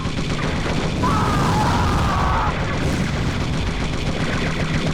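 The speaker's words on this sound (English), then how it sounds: "That explosion was no small explosion." Loud, dense blast rumbling through a chaotic car-combat battle in Twisted Metal 4, with a booming roar and crackling gunfire layered over constant low engine noise for several seconds.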